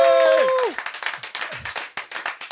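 A studio audience on a French TV show breaks into applause, a dense burst of hand clapping that pulses along after a brief tonal sound at the start.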